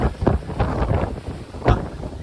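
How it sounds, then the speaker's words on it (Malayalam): Strong wind gusts buffet a ferry crossing the rough Atlantic Ocean from Doolin, a rushing, uneven roar that swells and dips in close, heavy blasts with no voices. "നല്ല കാറ്റും."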